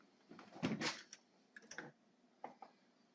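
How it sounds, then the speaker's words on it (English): A brand new door installed in a remodeled cabin is opened. A faint click and rattle of the latch is followed by a short creak and a few light knocks and taps, all quiet and close. "And we go through a brand new door that we put in."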